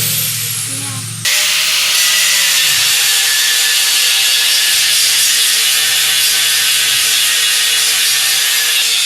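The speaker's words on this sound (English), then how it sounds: "They're cutting that off so the tires have more clearance." A Toyota Tacoma cab mount being cut off in a shop: a loud, continuous power-tool grind on metal starts abruptly after a brief quieter moment and holds steady and close to the end.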